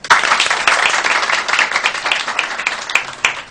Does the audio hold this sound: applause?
yes